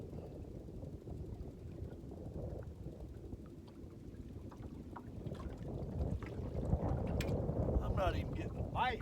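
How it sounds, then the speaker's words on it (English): A bass boat approaches across Lake Monticello, a low rumbling engine drone building gradually under steady wind buffeting the microphone, faint at first and growing louder toward the end. "we got a boat coming up on us. I think it's a bass boat."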